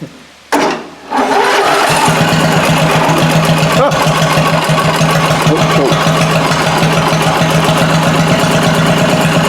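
A lawn mower tractor engine cranks briefly, catches and fires up, then settles into a steady, loud idle that runs on unchanged for several seconds.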